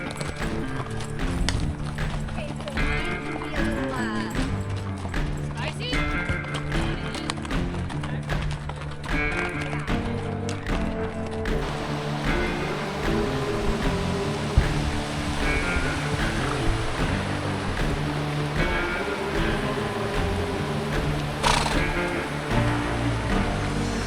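Loaded pack mules moving a sheep camp up a mountain trail, hooves clip-clopping in a steady irregular rhythm with creaking and rustling gear throughout, close by and continuous.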